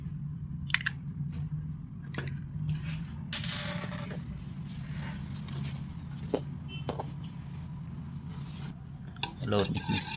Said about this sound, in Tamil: ரொம்ப நல்லா மிக்ஸ் பண்ணிக்கோங்க. இந்த மாதிரி நல்லா அடிச்சுக்கோங்க.